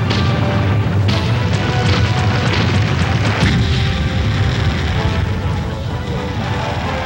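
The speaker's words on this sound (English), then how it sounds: "you can shoot into the castle and then you see this great show of the castle physically blowing apart" Medieval Madness pinball machine by Williams firing its castle-exploding effect, with loud continuous booming blasts and crashing bursts that fill the whole stretch close and dense.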